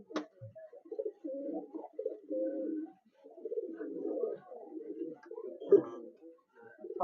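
Abluk pigeons coo near and steady in soft, rolling phrases that run almost without pause, a few louder swells rising among the low burbling.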